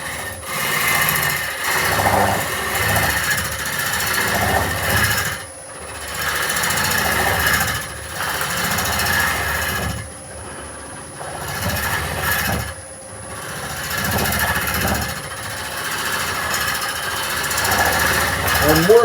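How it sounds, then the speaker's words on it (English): A wood lathe turns a cherry root ball hollow form while a tool cuts side grain, a rough, scraping drone rising and falling in bursts with short pauses, loud and close. "I'm working from the inside or the centre to the outside, only because I want to be cutting side grain."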